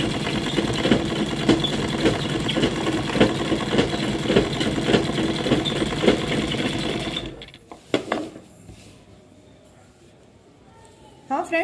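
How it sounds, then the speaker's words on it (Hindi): Sewing machine stitching a folded salwar hem, a close, continuous rhythmic whir for about seven seconds, then it stops, leaving faint handling clicks with someone talking over it. "ऐसे फोल्ड करते हुए हम इसके ऊपर सिलाई लगाते जाएंगे"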